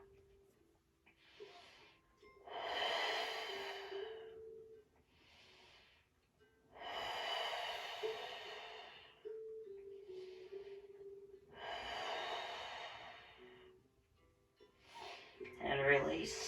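Deep breathing during a seated forward fold stretch, three long slow inhale-exhale cycles, close and clearly audible, with a faint voice and a brief rustle at the end.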